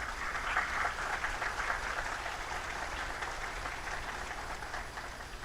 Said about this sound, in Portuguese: Um aplauso para as mulheres que estão aqui.